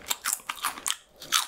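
Crunchy dumpling-flavored snack chips from a Korean convenience store are bitten and chewed up close, giving five or six sharp, crisp crunches in quick succession with short gaps between them.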